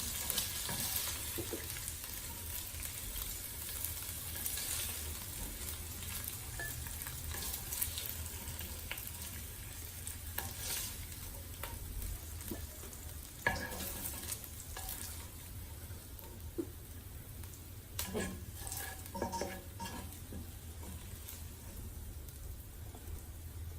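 Chicken pieces fry in hot oil in a pan, a steady close sizzle with occasional stirring scrapes and clicks of a utensil, no voices.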